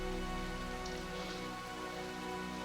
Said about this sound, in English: All this nasty rain.